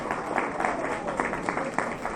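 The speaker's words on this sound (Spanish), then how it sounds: "Un aplauso, por favor, para..." Applause from a congregation inside a church during a Christmas gathering, a steady wash of many hands clapping at moderate volume that holds evenly for a couple of seconds.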